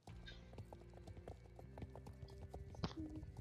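Rapid rhythmic hoofbeats of a galloping horse with a brief whinny in Star Stable Online, crisp and synthetic-sounding like game audio, with faint background music.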